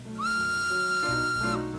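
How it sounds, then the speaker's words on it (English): A steam engine's whistle gives one steady, sustained blast lasting over a second, clear and fairly close, then cuts off with no voices over it. "The steam engine whistled."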